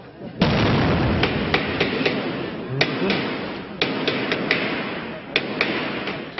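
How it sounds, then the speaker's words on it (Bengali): Gunfire and explosions during an army raid on a building in Shibbari, South Surma, Sylhet: sharp, loud cracks and thuds repeat at irregular intervals over a continuous roar of background noise. "মুহুর্মুহু গুলির শব্দে প্রকম্পিত সিলেটের দক্ষিণ সুরমার শিববাড়ি এলাকা, সঙ্গে বিস্ফোরণের শব্দ।"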